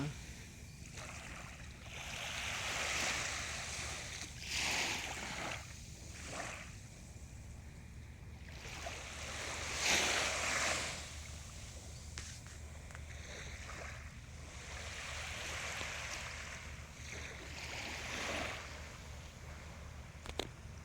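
Sea waves washing onto the shore at Ao Thong Kham on a calm, cloudy morning, with soft repeated surges rising and falling over a steady low rumble of wind and water, moderately distant.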